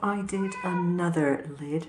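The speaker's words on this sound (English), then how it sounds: "that's my cat whinging at me because he's not getting any attention" Pet cat meowing insistently for attention indoors, mixed in with a person talking over it.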